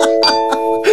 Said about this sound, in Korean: 딩동댕.